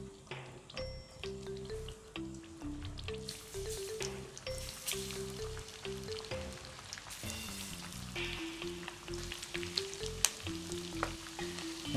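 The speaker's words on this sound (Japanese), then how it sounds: "これでね、じっくり揚げていきます。" Chicken wings deep-frying in oil heated to about 180 degrees give a steady, crackling sizzle throughout, under soft tonal background music, with no talking.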